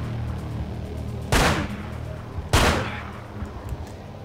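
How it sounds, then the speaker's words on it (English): Two loud, sharp SMG blasts in the video game Manhunt, spaced about a second apart, each with a short ringing tail, heard close over a low background hum. "just unloaded nearly all of that mag into them, and they just stood there taking so much SMG ammo"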